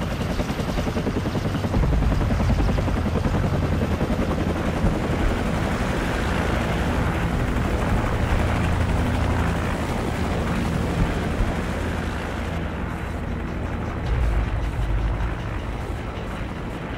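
A helicopter in Call of Duty 4: Modern Warfare drones with a continuous, loud rotor thrum throughout, with scattered gunfire popping beneath it.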